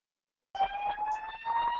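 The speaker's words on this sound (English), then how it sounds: "the fire alarm's back on" A fire alarm sounds suddenly after a moment of silence, holding a steady, piercing electronic tone with a few overtones, loud and continuous with no speech over it.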